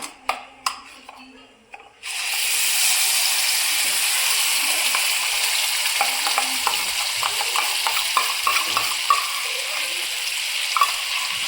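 After a few light clinks, spices and yogurt hit a hot pan with a sudden loud sizzle that holds steady and close, while a spoon clatters and scrapes as the mixture is stirred for a paneer dish.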